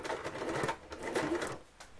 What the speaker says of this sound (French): Et là, bah, je couds. Donc, je vais peut-être choisir un point zigzag un petit peu plus joli.